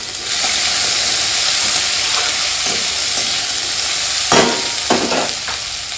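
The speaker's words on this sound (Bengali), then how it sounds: "আলুটা একটুখানি ভেজে নিলাম" Potatoes frying in a pan, a loud steady sizzle and hiss up close, with a few stirring scrapes and clatters toward the end.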